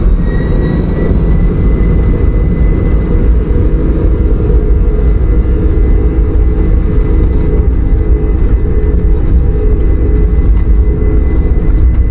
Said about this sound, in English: Takeoff checks complete, I'm on the roll.